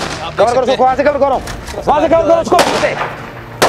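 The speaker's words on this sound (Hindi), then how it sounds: "चलो उस तरफ से फायर की आवाज आना शुरू हो गई है।" Gunfire during a police raid: a couple of sharp, sudden cracks break through loud, agitated shouting voices close by, with the shots sounding rough and somewhat distant.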